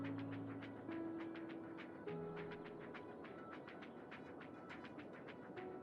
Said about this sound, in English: I see a commercial train coming in, going right by the passenger train